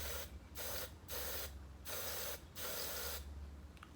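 Spray paint is decanted from an aerosol can in short hissing bursts, four or five evenly spaced sprays at close range with brief pauses between them, over a low background hum.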